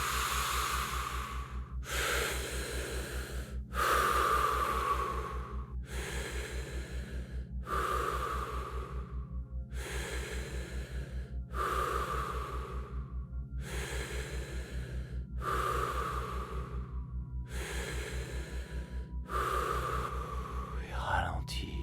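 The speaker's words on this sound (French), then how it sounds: "je vais vous inviter à accélérer votre respiration, à la rendre plus puissante pour mettre en mouvement ces énergies" Accelerated, forceful breathing exercise with about ten strong, rhythmic breaths drawn in and pushed out at a steady pace, heard close over a low steady hum.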